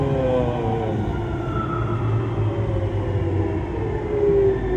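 Siemens VAL 208 metro train No. 34 on Toulouse's Tisséo network, running between Ramonville and Borderouge: a loud, steady rolling rumble with a rising motor whine throughout, no voices.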